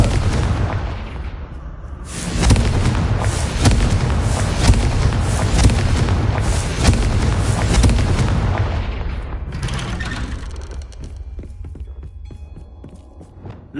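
Repeated Confringo blasting-spell explosions in Hogwarts Legacy, loud booming bursts with crackling debris layered over a dense rumbling bed, continuous for several seconds before easing into quieter creaks and rattles.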